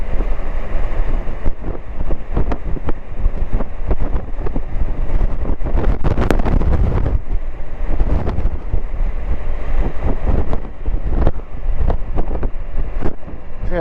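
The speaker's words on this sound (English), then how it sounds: "It's quite windy up here." Strong, steady wind buffets the microphone throughout, a loud continuous rumbling roar with gusty bursts and no voices, on an exposed high spot while riding a Spyder.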